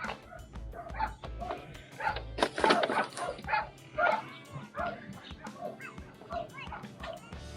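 Several short dog barks and yips mixed with outdoor chatter, moderately close, scattered irregularly through the clip.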